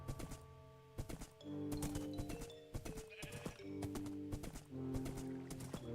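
Steady clip-clop of horse hooves in the Minecraft modpack GregTech New Horizons, a close rhythmic trotting with occasional whinnies over soft game music.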